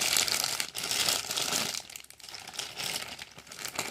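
Plastic packaging crinkles and rustles as an Eweima tactical 4-16x44 FFP rifle scope is unwrapped, a continuous close crumpling with brief pauses and no talking.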